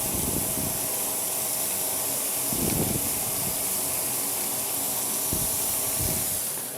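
Onions sizzle steadily in a hot pan for a spicy Christmas stuffing, a loud continuous hiss close by with a few low thumps and shifts as the pan is moved.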